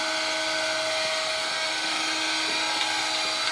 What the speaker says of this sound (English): Turn it on, now your spindle is on.